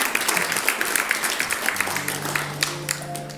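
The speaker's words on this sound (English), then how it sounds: "let's give Debra a great round of applause here" Church congregation at a Sunday service applauding, a moderate wash of many hands clapping, with a sustained organ or keyboard tone entering partway through beneath it.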